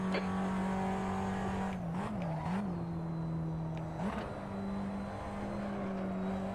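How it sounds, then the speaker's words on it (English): A Tatuus FA01 open-wheel race car at Silverstone National in a racing game holds a steady, droning engine note that stutters and wavers as it bounces off the rev limiter, with faint tire noise underneath. "Boy, rev limiter didn't like that."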